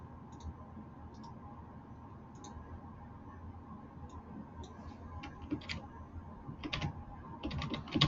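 A computer keyboard is typed on in short scattered bursts, faint clicky keystrokes that come quicker and louder toward the end, with Control X among them, over a low room hum.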